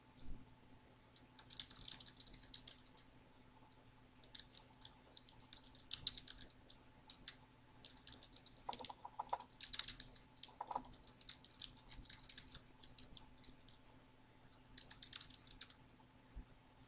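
Someone types on a computer keyboard in scattered runs of light, quick key clicks, close but faint over a low electrical hum, with short pauses between bursts.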